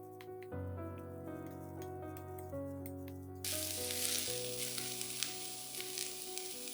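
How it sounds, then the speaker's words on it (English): Cabbage stir-frying with dried shrimp in a hot pan: bright, steady sizzling that swells louder partway through, layered over sustained background music, with no voices. "I don't fry this for too long because I like my cabbage to be a bit crispy."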